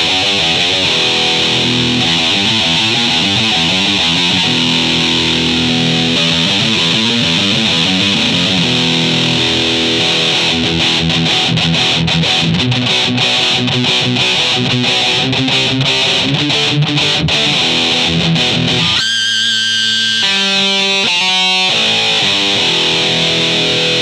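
Harley Benton Mosrite-type electric guitar on its single-coil pickup with extra distortion, played loud and continuous as sustained, heavily driven chords and notes, ending in a few choppy staccato hits, with no talking.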